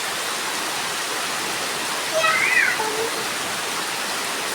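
Steady, hissing rain falls while water runs along a road, a constant broadband wash with a brief chirping tone rising over it midway.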